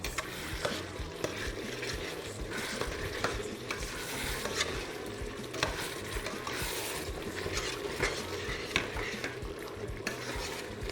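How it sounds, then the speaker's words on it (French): Rougail sizzles in a frying pan while a utensil stirs it, steady crackling frying with repeated scraping and clinks against the pan over about eleven seconds, close and clear with no talking. "Je vais juste mélanger le rougail."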